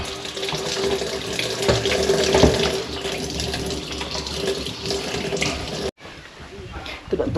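Water runs steadily from a tap in a loud, continuous rushing stream that briefly cuts out near the end before restarting, with faint voices in the background.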